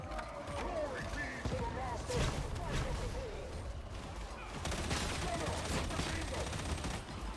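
Ranged weapon fire in the video game Darktide, rapid bursts of gunfire mixed with game noise and crashes, with someone talking over the shooting.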